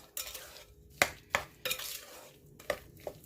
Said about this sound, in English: So we're going to mix that in.